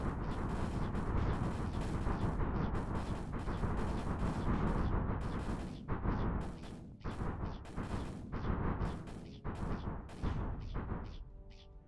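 Artillery shelling pounds the battlefield in the real-time strategy game Rusted Warfare, a heavy, continuous barrage of booming impacts that later breaks into separate rapid blasts and thuds.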